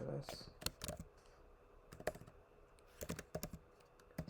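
Keys clacking on a computer keyboard, crisp irregular bursts of taps close to the mic, heard under someone speaking Hindi.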